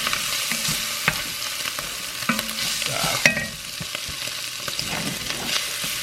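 Vegetables for a Bolognese sauce sweat in a pan and begin to dry up, a soft steady sizzle broken by occasional scrapes and clicks as they are stirred, close but fairly quiet.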